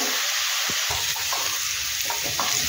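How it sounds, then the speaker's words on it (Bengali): Potatoes fry in a hot pan with a steady, bright sizzle, broken by a few scraping stirs and low clattering knocks of a utensil against the pan, close and alone without talk. "আমি এটাকে একটু ভেজে নিই।"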